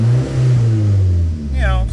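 A Toyota Celica ST165 Alltrac engine idles at around 800 rpm or a little higher, a steady low hum with slight rises. Someone talks over it throughout.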